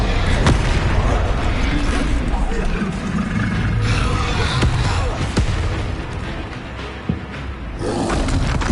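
Confringo blasting spells in the Hogwarts Legacy video game, heard as loud booming blasts and crackling bursts that come again and again through the whole passage, mixed with game effects.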